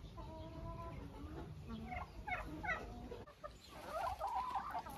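Chickens cluck and chatter while they are fed bread soaked in water. The soft, close clucks and short calls rise and fall over a low background murmur.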